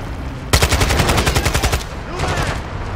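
Gunfire in the video game Modern Warfare 2, a rapid automatic burst of loud close shots lasting over a second, followed by quieter scattered noise.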